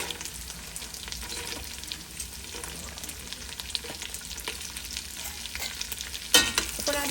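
Blanched almonds and cashews sauté in a pan, giving steady close frying sizzle with scraping stirs, and a sharper clatter near the end.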